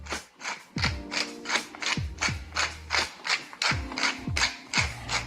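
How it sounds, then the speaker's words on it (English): Pepper mill grinding black pepper in a kitchen, a run of repeated crunchy rasping twists in a steady rhythm, close and fairly loud, with no talk over it. "And now we'll grind a little pepper."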